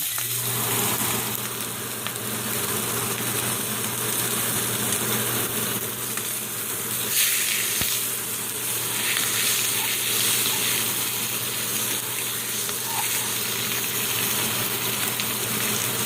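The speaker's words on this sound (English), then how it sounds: "I'm not trying to cook it. I'm just trying to sear it." A sous-vide NY strip steak searing in a hot pan, a continuous broad sizzle with a steady low hum from a kitchen fan underneath, holding at an even level from start to finish.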